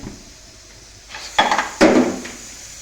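A cooking pot of kachnar keema being opened, with two close metallic clanks and rattles of the lid a moment apart against a quiet kitchen background, no voices.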